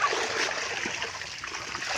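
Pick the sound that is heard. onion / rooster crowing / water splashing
water splashing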